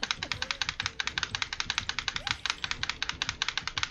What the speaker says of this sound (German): Ein sehr angenehmes Geräusch von der Tastatur